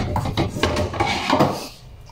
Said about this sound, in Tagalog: So, yun, ilipat lang natin itong kawali.